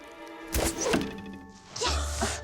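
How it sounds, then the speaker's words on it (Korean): An arrow strikes an archery target during outdoor practice on palace grounds, giving two solid thunks about a second apart, each with a short swish, fairly close and clear with little else around. "에밀리가 정확히 명중하자"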